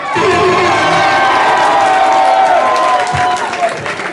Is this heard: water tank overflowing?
no